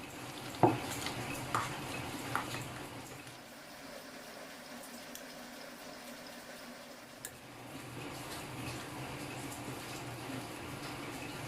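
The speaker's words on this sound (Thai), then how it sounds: "บดจนได้น้ำตาลกับเนยละลายนะ" Hot purple sweet potato being mashed and stirred with butter and sugar in a pot, a few sharp clinks of the utensil early on, then a steady soft scraping and stirring with no talking.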